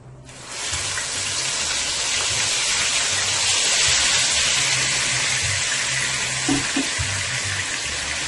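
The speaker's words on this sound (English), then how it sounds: "I'm gonna go ahead and pour my seasoning into my oil." Seasoning poured into hot oil in a pot for Guyanese stew chicken, giving a loud, steady frying sizzle that rushes in abruptly and holds for several seconds, close and continuous with no talking.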